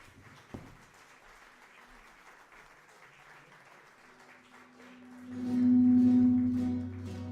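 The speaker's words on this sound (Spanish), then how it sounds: "Vamos a darle un fuerte aplauso a la Jotica de Estilo y a José Doiz." An audience applauds a jota performer at the 38th anniversary celebration of the Centro Aragonés de Sabadell; a soft, steady patter of clapping runs throughout, and a loud sustained tone swells in near the end.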